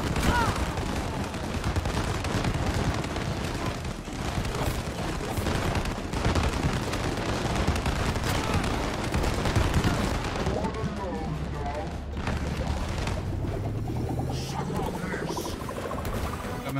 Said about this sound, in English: I didn't expect him to shoot tacks at me